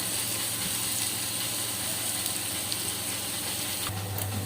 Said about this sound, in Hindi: अब इसमें जो ये गर्म हो चुका है, अब इसमें हम लहसुन डालेंगे सिर्फ।